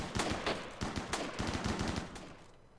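Rapid gunfire in the video game Rimworld, including sniper rifle shots, crackles in quick overlapping bursts, dense and fairly loud before trailing off at the end, with no talk.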